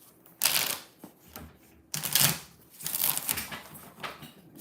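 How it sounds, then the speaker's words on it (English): Tarot cards are shuffled by hand in several bursts of riffling and sliding, close and crisp, separated by brief pauses. "3 more shuffles."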